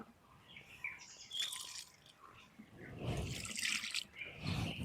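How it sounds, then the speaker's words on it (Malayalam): Liquid fertilizer splashes and trickles onto tomato plants outdoors, in quiet bursts of pouring and dripping, with faint bird chirps in the background. "ഇതേപോലെ ഒഴിച്ച് കൊടുക്കുക"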